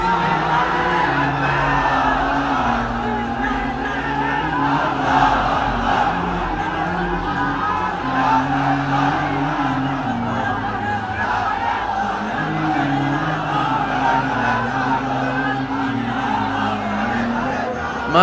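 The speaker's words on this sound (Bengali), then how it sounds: "তাকবীর দেন তো একজন আওয়াজ করে।" A large crowd at an Islamic religious sermon by Mijanur Rahman Azhari shouts takbir in unison, loud and sustained, with rising and falling chanted cries carrying continuously throughout.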